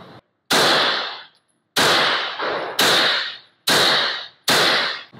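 Five suppressed 9mm pistol shots with Buffalo Bore defensive ammunition through a Rugged Obsidian 9 suppressor, outdoors, each a sharp loud crack with a decaying tail, spaced roughly a second apart.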